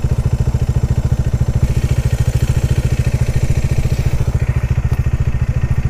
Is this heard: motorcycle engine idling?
yes